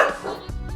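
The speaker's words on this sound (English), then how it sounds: "what my dogs were barking about" Several dogs barking indoors at a delivery box, a short burst of loud, overlapping barks and yips close by.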